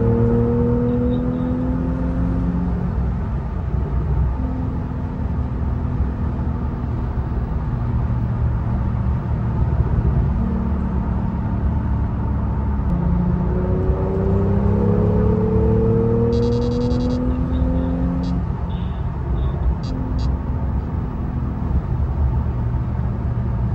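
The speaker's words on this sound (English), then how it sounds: "Believe it or not, that's actually only Sport exhaust." A 2018 Porsche 911 Carrera GTS with its sport exhaust drones loudly and steadily, its engine note climbing and settling through several rising and falling revs close by, with no talking over it.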